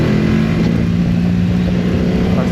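A 2025 BMW F900 GS with enduro pack and a 21-inch front wheel rides along a road, its engine holding a loud, steady drone mixed with wind rush throughout.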